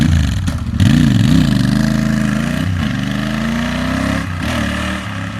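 A Royal Enfield Continental GT 650 parallel-twin motorcycle's exhaust note on a city street, loud and close, with a deep rumbling idle that rises and falls through a couple of throttle blips before settling into a steady drone.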